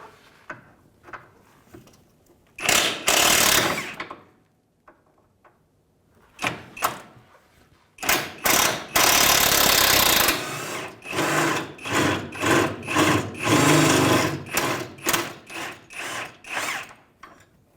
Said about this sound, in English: we're going to get in there with an impact and remove that bolt